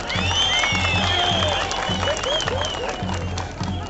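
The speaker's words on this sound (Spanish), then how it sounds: "que vengan los aplausos bien fuerte y largo" Audience at a final Tipaki dance contest in Pampas, Peru, applauding steadily and loudly, a dense wash of clapping and crowd noise with a rhythmic thumping beat underneath.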